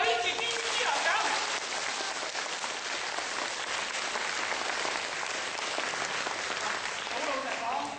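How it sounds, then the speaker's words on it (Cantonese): Audience applause at a live Cantonese comedy show, a dense, loud, continuous clapping that holds steady for the whole stretch, with a voice faintly underneath. "再一次掌聲，"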